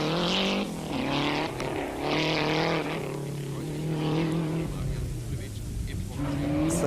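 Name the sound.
Lancia rally car reaching finish, Cyprus Rallye 1992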